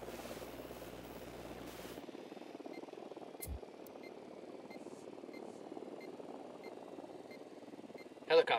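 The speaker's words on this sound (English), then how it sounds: "Helicopter incoming." Helicopter in the video game Ghost Recon Wildlands, a steady chopping rotor drone that holds moderately loud and constant throughout, with a brief thud partway and a sharp burst near the end.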